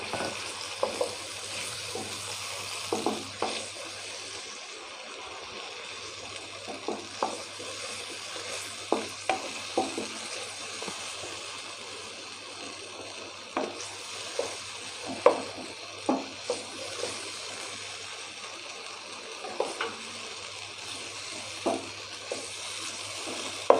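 Tomatoes sizzle steadily in hot oil while being stirred for a Pakistani besan khandvi curry, a continuous frying hiss broken by repeated soft scraping and clinking stirs; no one talks.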